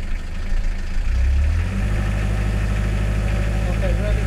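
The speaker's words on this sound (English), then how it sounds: "Put it in gear. And then rev it up." A boat's inboard engine is put in gear and revved, its low droning rumble swelling briefly before settling into a steady, close hum.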